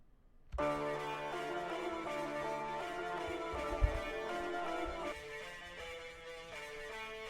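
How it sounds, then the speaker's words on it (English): A simple guitar pattern programmed in FL Studio with a Maschine MK3 plays steadily on its own, a clean repeating melodic line over soft low thumps, fairly quiet with no voices. "now this is another guitar pattern."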